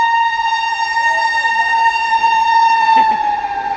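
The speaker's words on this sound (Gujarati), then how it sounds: "કાંઈ એટલી જોરમાં બીજી ટ્રેનનો પોપો સંભળાનો." A passing train's horn blowing one long, loud, steady multi-tone blast, heard close with rail rumble underneath and no talk.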